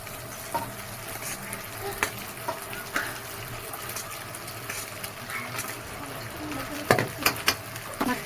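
Potatoes and sabudana frying in a pan, a low steady sizzle with occasional sharp clinks and scrapes of stirring, brief louder clatter near the end, no talking.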